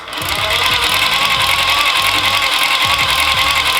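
A Classic Army M134-A2 airsoft minigun barrel spins up on a 7.4-volt LiPo battery, a continuous whirring motor hum with a rattling mechanical pulse that starts and holds steady, close and alone.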